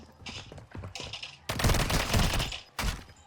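Call of Duty Warzone gunfire played on an iQOO Neo 9S Pro+ phone: a few scattered shots at first, then a loud sustained automatic burst, a brief gap and one more short volley.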